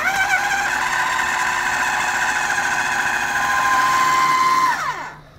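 Food processor whirring steadily as it blends smoked salmon pâté with black pepper and mayonnaise, a loud continuous motor drone that winds down and stops near the end.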